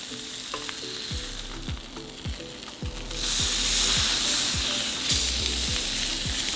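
Salmon sizzling on a hot salt block, a loud, steady frying crackle that swells halfway through, with faint repeated low knocks underneath and no talking.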